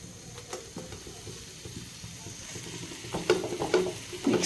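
A spoon stirs halwa with fried cashews and raisins in a pan: soft scraping and light sizzle, faint and steady, with a few louder clinks near the end and no voices.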